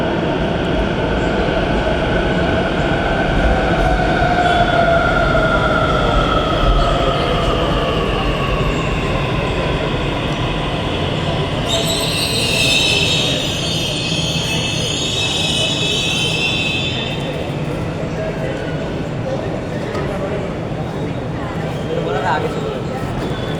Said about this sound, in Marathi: आता जी मेट्रो येते ती बेलापूरकडून पेंधरला आलेली आहे